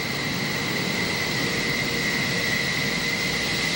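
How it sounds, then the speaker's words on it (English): A steady, loud roar of jet engines as F-14s launch from the deck of the USS Nimitz, heard from below deck, a constant broadband rush with a faint high whine running through it and no breaks. "They're launching planes again."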